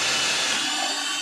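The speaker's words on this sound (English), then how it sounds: "I'm going to use a spade bit here to countersink that bolt in" Power drill with a spade bit boring a countersink into a wooden block for a bolt on a leatherworker's stitching pony, a loud whirring, grinding cut that tapers as the bit slows.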